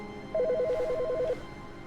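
A telephone rings in The Stanley Parable: Ultra Deluxe video game, a steady repeating electronic ring lasting about a second, clear and fairly close over quiet room tone.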